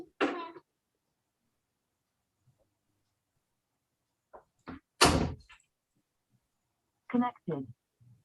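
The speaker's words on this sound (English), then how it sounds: "Close the door when you go out." Indoor door pushed shut with a single firm thud partway through, among scattered short bumps and a cough in an otherwise quiet room.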